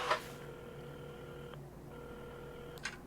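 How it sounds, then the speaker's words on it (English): A telephone being dialed in the video game Assemble with Care gives two sustained steady tones separated by a short gap, framed by soft clicks at the start and end, quiet and clean with no talk. "Carmen had started dialing the phone"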